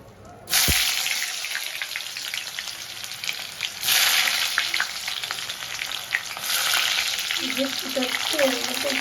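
Sliced onions hit deep hot oil for chicken rezala, unsalted and frying toward golden, bursting into a loud, bright sizzle after a short quiet start, then crackling and bubbling steadily up close with small surges throughout.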